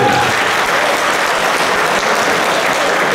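Loud, dense applause from a crowd of fans at a meet-and-greet with the Fakel team, steady and unbroken throughout with no talk over it.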